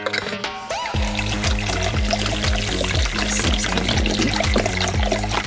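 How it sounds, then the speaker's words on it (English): Water pours steadily from a tap into a pitcher holding bleach, mixing a sanitizing solution for an RV fresh water system; a continuous, close, rushing pour with a gurgling rise in pitch as the pitcher fills. "put it into my pitcher, fill this with water"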